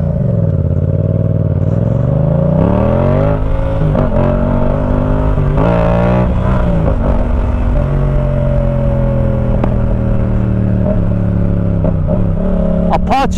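A motorcycle engine revs loudly and close up, its pitch climbing and falling through repeated throttle blips and sustained high revs, with clattering mechanical noise throughout and no pauses.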